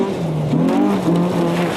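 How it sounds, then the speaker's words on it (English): A Peugeot 106 Super Cup rally car's engine drones steadily, its pitch shifting up and down as it revs and changes gear, with road and tyre noise underneath. "a dress rehearsal for Seamus Donnelly in his 106 Super Cup Peugeot"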